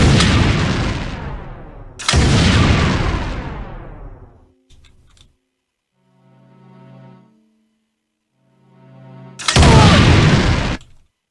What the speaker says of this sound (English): those things are still firing